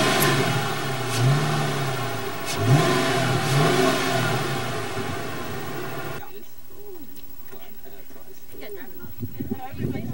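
A 2005 Ford Mustang GT with an eight-cylinder engine and five-speed gearbox revs loudly nearby in repeated surging bursts, with people talking over it before the sound cuts to quieter speech.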